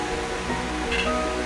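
The Ramganga river flows beneath a suspension footbridge near Namik village, a steady broadband rush of water heard close and continuous.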